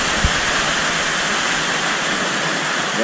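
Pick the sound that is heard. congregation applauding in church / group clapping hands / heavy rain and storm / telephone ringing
heavy rain and storm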